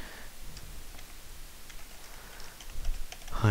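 Keystrokes clatter on a computer keyboard in a steady, quick run of light ticks, close by and fairly soft, with a few louder taps near the end and no talking.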